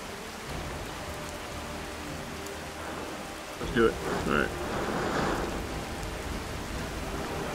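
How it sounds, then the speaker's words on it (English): Heavy rain pours steadily in the Skyrim video game, a dense hiss running throughout, with a voice speaking briefly over it midway. "As it fucking pours rain."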